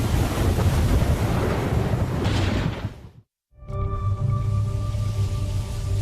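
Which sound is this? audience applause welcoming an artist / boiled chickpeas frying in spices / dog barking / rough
rough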